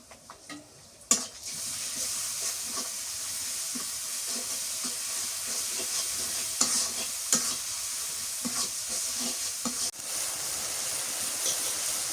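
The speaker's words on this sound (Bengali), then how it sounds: "মরিচ পেঁয়াজ কষানো হয়ে গেছে" Chili and onion sauté with cumin paste, garlic paste and turmeric in a village kitchen: a continuous close sizzle runs throughout, broken by repeated scraping and stirring of a spoon in the pan, with no talking.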